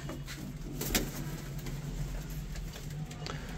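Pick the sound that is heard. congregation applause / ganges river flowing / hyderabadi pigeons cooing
hyderabadi pigeons cooing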